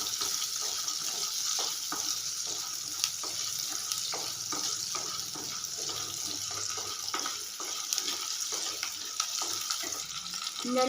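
Onions sautéing in a pan for a Tamil home-style dish, giving a steady, continuous sizzle and frying hiss with occasional small crackles and stirring clicks, close and fairly loud, with no talking.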